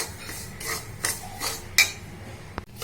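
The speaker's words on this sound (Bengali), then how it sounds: "আমি কন্টিনিউ এটা নাড়তে থাকবো, না হলে নিচেটা লাল হয়ে যাবে।" Roasted semolina (suji) being stirred in a pan, a series of soft scraping and rasping strokes with a few sharper clinks of the utensil against the pan.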